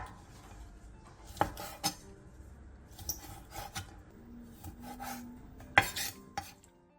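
A kitchen knife chops squid into bite-size pieces on a cutting board, giving scattered clicks and knocks with scraping and rubbing sounds in between, all fairly quiet and close.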